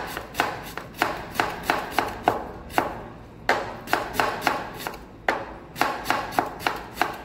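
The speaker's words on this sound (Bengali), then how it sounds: "আমি দুটো বড় সাইজের অনিয়ন নিয়ে নিয়েছি, যেটাকে ফাইন চপ করে নেবো আমি" Two large onions being finely chopped with a sharp knife on a board: quick, crisp knife strikes in short rhythmic runs with brief pauses, close and clear with no voices.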